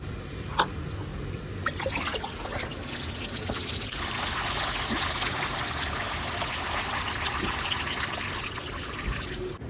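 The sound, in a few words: water poured into a plant pot, draining through the bottom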